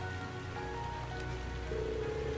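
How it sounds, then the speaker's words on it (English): Heavy rain in the video game Trails of Cold Steel makes a steady hiss that runs beneath soft game music tones, constant and even throughout. "It must be terribly cold in the stables right now due to this downpour."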